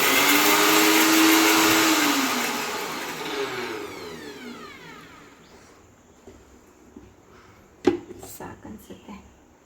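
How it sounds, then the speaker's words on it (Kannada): An electric mixer grinder whirs loudly as it grinds garlic, then the motor winds down over several seconds, followed by a few knocks and faint handling noises. "ಗ್ರೈಂಡ್ ಮಾಡ್ಕೊಳಕ್ಕೆ ಸ್ವಿಚ್ ಆನ್ ಮಾಡು"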